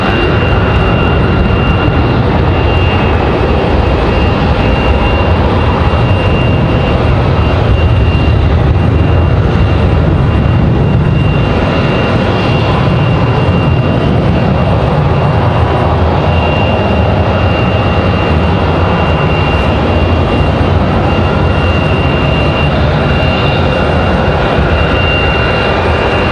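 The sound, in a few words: American Airlines Boeing 737 jet departing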